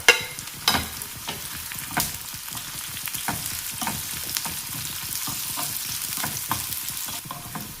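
About seven sun-dried kondattam chillies fry in hot oil with curry leaves, giving a steady close sizzle broken by repeated scrapes and knocks of a stirring spoon.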